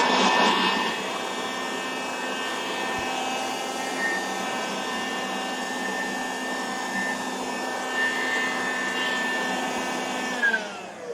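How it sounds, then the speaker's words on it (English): A vacuum cleaner drones loudly and steadily, its motor whine holding a constant pitch before winding down near the end. "Vacuum cleaner. Sorry, folks."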